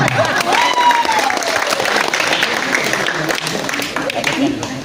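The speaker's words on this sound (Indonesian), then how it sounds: "Tepuk tangan." An audience applauds at a shared iftar gathering at an Islamic boarding school in England. Steady clapping fills the room for several seconds while a voice keeps talking over it.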